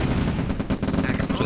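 Rapid automatic gunfire rattles loudly and continuously from units fighting in the real-time strategy game Command & Conquer: Red Alert, a dense burst of shots with a faint voice underneath.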